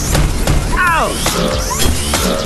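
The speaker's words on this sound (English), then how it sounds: "Steel smashing steel!" Steel robots smashing into each other in a robot boxing mobile video game, a loud continuous clanging crash with metallic whooshes and sweeping synthetic tones over dense game noise.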